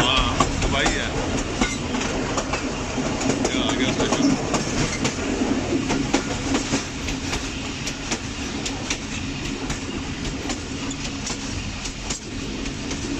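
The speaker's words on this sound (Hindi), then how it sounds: "इस वक्त यहाँ से थ्रू पास हो रही है ट्रेन।" Pakistan Railways Jand Passenger train rolling past Kamalpur station near Attock, a steady loud rumble with rhythmic clickety-clack of wheels over rail joints, close by and sustained.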